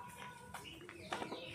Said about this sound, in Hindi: यहाँ पे बहुत सी प्रकार की चिड़िया घूमती है।